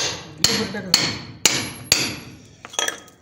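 Four sharp, evenly spaced hammer blows on a chisel cutting concrete ring out close by, followed by a quicker cluster of lighter taps.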